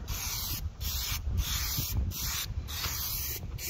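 A rattle-can aerosol sprays paint onto a Lexus RX350 in short repeated bursts, each a close, loud hiss separated by brief pauses, about six passes in a row.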